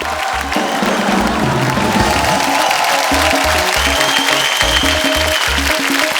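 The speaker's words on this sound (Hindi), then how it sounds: "जोरदार तालियां इनके लिए।" Steady applause from a television comedy show studio audience runs throughout, loud and continuous, with a rhythmic low thumping of music underneath.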